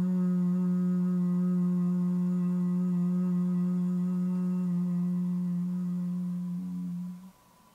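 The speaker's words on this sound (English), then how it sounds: "I enjoy when I'm relaxing in this position also to hum," A person lying down in a relaxed position hums one low, steady sustained note for several seconds, close and alone, before it wavers and fades out.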